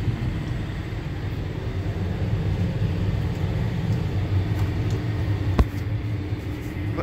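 A John Deere 7730 tractor disks a field, its engine a steady low rumble with a brief clank partway through.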